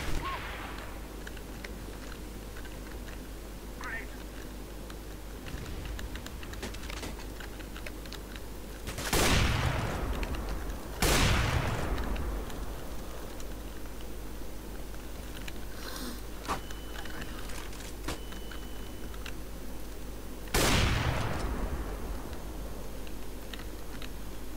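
Gunfire in a shooter video game, with a few sharp loud shots spaced several seconds apart over a low background hum and faint keyboard clicking, no talking.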